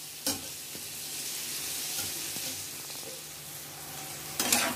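Chopped onions sizzle steadily in hot oil in a pan for butter paneer masala, with a few soft clicks of a spoon stirring through the continuous frying hiss.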